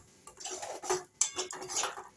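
Spoon scraping and clinking against a pan while cauliflower roast is stirred with a splash of water, a run of close, irregular metallic knocks and scrapes with no talk.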